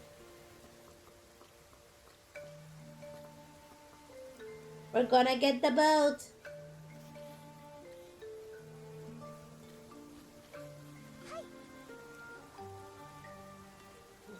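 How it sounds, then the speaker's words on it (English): Steady rain patters down in Infinity Nikki, a soft continuous wash beneath a game music score and a brief burst of chiming melody, with a voice talking over it. "It's raining."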